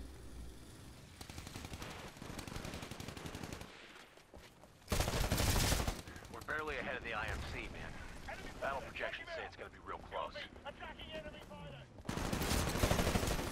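Gunfire in Titanfall, with bursts of rapid automatic fire and heavy blasts close and loud, alternating with quieter stretches where a voice is talking amid game sounds.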